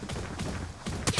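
Gunfire in the XDefiant shooter game: a few sharp, loud shots crack out in quick, irregular succession within a second, the last burst the strongest.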